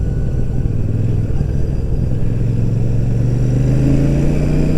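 A Royal Enfield Super Meteor 650 motorcycle engine under way on a twisty road, a steady deep throbbing rumble with a rising tone near the end, close and loud with wind noise and no talking.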